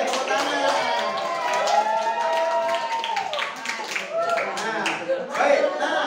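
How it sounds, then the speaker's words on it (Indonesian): Classroom of students clapping hands together, scattered sharp claps under lively overlapping voices and chatter close by. "Oke, tepuk tangan."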